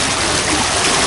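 Water of the Angara river at the Irkutsk embankment rushes in a loud, steady broadband wash that is heard close and unbroken throughout a very short stretch.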